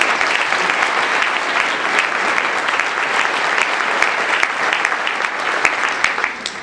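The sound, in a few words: audience applause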